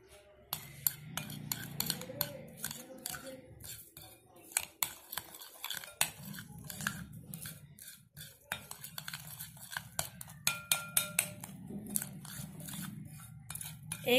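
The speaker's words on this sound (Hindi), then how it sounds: "इसको मिक्स करेंगे।" A spoon clinks and scrapes repeatedly against a bowl while milk powder, baking powder and egg are mixed for rasmalai, with soft irregular taps and a quiet voice speaking intermittently.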